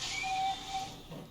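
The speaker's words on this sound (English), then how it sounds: "Love that whistle." A steam locomotive whistle in the Transport Fever 2 video game sounds as a thin steady tone over airy hiss, heard close and fairly quiet, and it fades after about a second.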